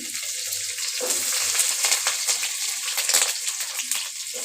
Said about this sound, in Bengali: এবার এটাকে লাল লাল করে ভেজে নেব